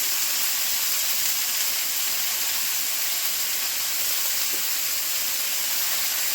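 Vegetables frying in a pan with salt and turmeric for a Bengali vegetarian dish, a steady, even sizzle and hiss running throughout without pause, no talking.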